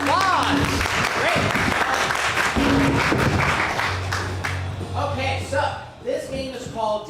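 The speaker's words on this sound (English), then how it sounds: "Let's send Dan out with some applause." Live audience applause in an improv student showcase, a steady wash of clapping filling the room at close range while people talk over it, thinning out toward the end.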